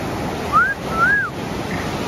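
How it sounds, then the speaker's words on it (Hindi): Sea waves breaking on a Goa beach at night, a steady broad wash of surf with a couple of short whistling tones rising over it, no talk. "ये आवाज रिकॉर्ड कर समुद्र की"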